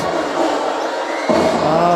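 A basketball crowd at a JRU college men's game roars in a steady wash of cheering that swells louder partway through.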